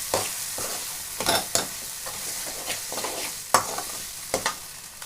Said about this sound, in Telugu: ఇప్పుడు ఫిష్ కర్రీ, అల్లం వెల్లుల్లి పేస్ట్ వేసి ఫ్రై చేస్తుంది.